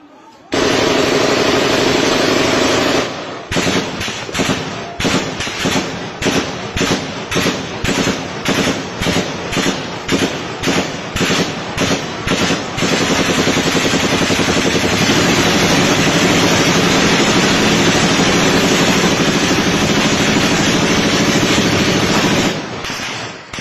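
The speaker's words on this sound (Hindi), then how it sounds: "उसके अंदर आपको बाकायदा गोली चलने की आवाज़ सुनाई देगी" Gunfire recorded in an eyewitness video: a long, loud stretch of rapid, repeated bursts of shots over a continuous heavy noise bed, lasting about twenty seconds.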